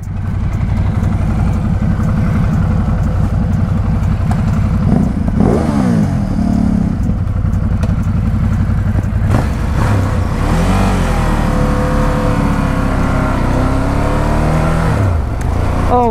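A 2017 Ducati motorcycle engine revs and accelerates up close, loud and continuous, with rising and falling pitch sweeps through gear changes and some mechanical clatter.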